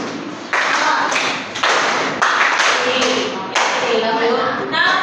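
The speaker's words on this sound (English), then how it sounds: "So give yourselves a 3 clap." A classroom of students claps in a quick group burst of three claps, repeated across several seconds as a loud, dense patter.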